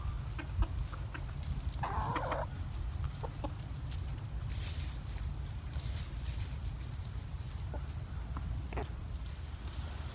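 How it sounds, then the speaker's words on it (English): A rooster nearby gives a short clucking call, faint and brief, over a steady low background hum with no talk. "that rooster behind me"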